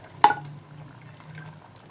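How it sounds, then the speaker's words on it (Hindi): Tomatoes go into a simmering chicken and potato curry with a little water left in the pot: one short, sharp splash, then a low, steady simmering bubble that carries on quietly. "तो अब इसमें हम टमाटर ऐड कर देंगे।"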